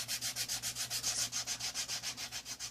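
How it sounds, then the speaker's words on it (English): Emery board sanding the edge of recycled cardboard, a close, even back-and-forth rasping of about fifteen quick rhythmic strokes, alone. "you're literally just going to sand that down"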